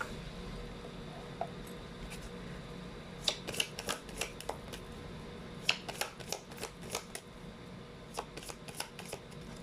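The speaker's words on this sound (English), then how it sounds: "Let's try to pull up the Chinese fortune cards now" Chinese fortune cards being shuffled, a steady run of crisp, close riffling flicks and soft slaps that comes in bursts, alone with no voices.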